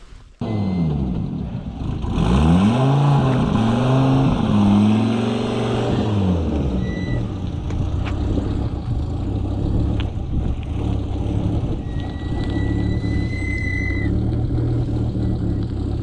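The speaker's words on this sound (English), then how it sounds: "We have to turn the car around just a bit." An Audi Quattro engine runs close by as the car is turned around, starting with a sharp start-up and revs that rise and fall, then settling into a steady loud idle rumble without talk.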